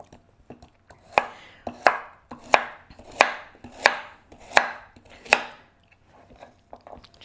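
Three medium washed carrots chopped into chunky pieces with a knife on a board for a farmer's casserole: about seven crisp, evenly spaced blade strikes, close and distinct, with lighter taps before and after and no talking.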